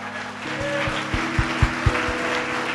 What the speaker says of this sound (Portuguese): Se você confia no Senhor, aplauda o nome dEle.